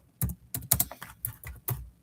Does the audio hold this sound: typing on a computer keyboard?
yes